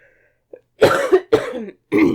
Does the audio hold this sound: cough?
yes